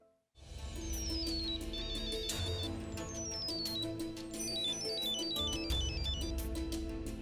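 A phone ringtone plays continuously, a bright electronic melody of descending tones repeating over a steady musical backing, fairly quiet and unbroken.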